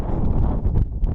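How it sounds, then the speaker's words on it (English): Strong wind buffets the microphone high up on a hill, a loud, continuous rushing roar with gusty swells throughout. "And it's really windy. Extremely windy."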